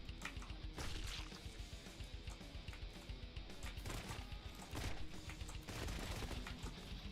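A Tommy gun fires in the video game Jackal in a rapid, continuous automatic stream of shots, steady and fairly loud throughout with slight surges.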